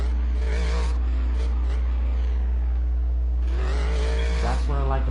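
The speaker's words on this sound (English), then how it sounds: "Notice how different the truck just sounds." Monster truck engine in the video game Monster's Revenge, a loud continuous roar that revs up and down throughout, with game music or other effects mixed in.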